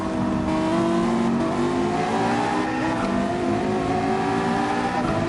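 A Honda NSX with a VTEC engine revs hard in Gran Turismo 7, producing a sustained, high-pitched engine wail that climbs steadily through the rev range, loud and uninterrupted.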